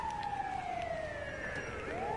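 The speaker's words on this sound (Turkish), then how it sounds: "Ay ambulans gelmiş" In the GTA video game, an ambulance siren wails steadily throughout the clip, its pitch sliding slowly downward before rising again at the end. It sounds fairly loud over a constant background rumble, and no one talks over it.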